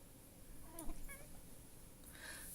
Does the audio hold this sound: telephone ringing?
no